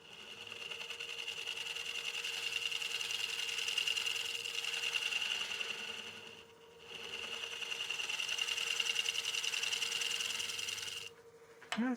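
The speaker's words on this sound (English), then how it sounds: "Try to scrape with a gouge here and see how it does." A gouge scrapes steadily across a partially seasoned wooden bowl spinning on a lathe, a continuous close whirring scrape with a brief dip in the middle and a sudden stop near the end.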